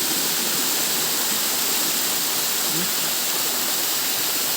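Steady, full roar of a waterfall and rushing river current in a nature park, close and continuous, with no voices.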